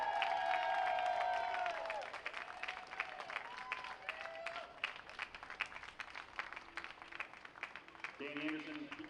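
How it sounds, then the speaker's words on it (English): A crowd at a New Jersey Motorsports Park race applauds and cheers Nolan Siegel's first-ever win. The steady clapping runs for the whole stretch, with a voice talking over it at the start and again near the end. "Everybody, a big round of applause."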